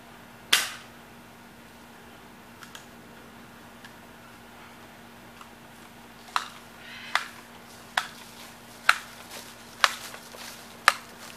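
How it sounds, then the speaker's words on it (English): A Crosman Pumpmaster 760X air rifle fires at a can, with sharp isolated cracks: one early shot, then a run of about seven more spaced roughly a second apart over a quiet hum, each sounding close. "I'll load one more clip. And shotgun the can."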